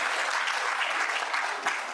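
Rotary club members clapping to welcome guests at a meeting, a dense, even burst of applause from a roomful of people, steady throughout and unaccompanied by speech.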